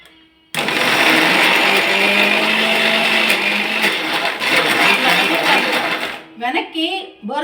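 A mixie mixer grinder whirs loudly as it grinds pudina chutney with water and salt, starting abruptly after a brief quiet moment and running steadily for several seconds before cutting off, with a voice talking briefly at the end.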